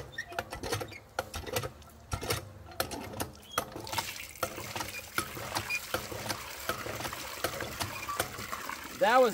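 Rusty, stale water pours and trickles out of the top of an unused animal drinking bowl in a garden, irregular splashes and drips up close that settle into a steady patter, with a brief squeak at the end.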